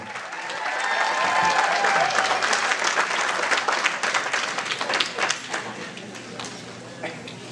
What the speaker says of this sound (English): how about a nice round of applause for Maid of Honor